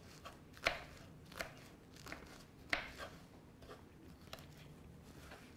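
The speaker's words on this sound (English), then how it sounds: "You chop like this." A knife chops zucchini on a board in a home kitchen, faint irregular cuts with several sharper knocks spaced about a second apart over a quiet background.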